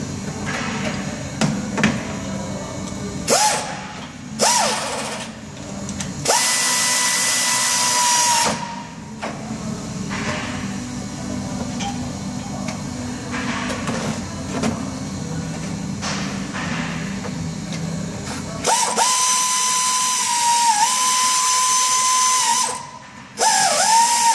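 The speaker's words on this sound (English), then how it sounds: "Take your air ratchet, switch it to the on." Air ratchet working on the upper control arm of a 2011 Ram, several loud high-pitched whirring bursts of varying length separated by pauses, with clicks and clanks of tool handling between them.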